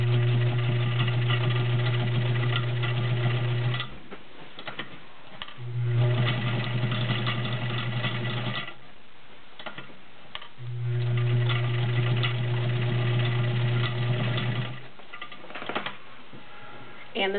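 A vintage Kenmore 1206 sewing machine with a size 16 needle runs a straight stitch through five layers of denim in three steady motor-driven bursts, a low hum with rapid needle patter, separated by short pauses.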